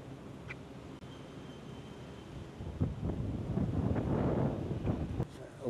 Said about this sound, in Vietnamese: Gió quá không bay flycam được nhỉ.